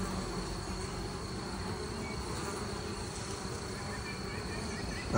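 Honey bees hum around their hives outdoors, a faint, continuous buzzing drone with no talking.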